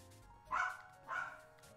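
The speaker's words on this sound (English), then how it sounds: "There goes that dog again." Two short dog barks at a distance, spaced about half a second apart, standing out over a quiet indoor background.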